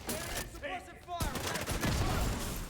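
Bursts of gunfire crackle in The Division 2 game, a brief rapid fusillade of shots under faint voices and game noise lasting a few seconds.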